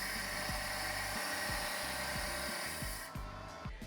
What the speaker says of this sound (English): So the first stage is just sawing the material up.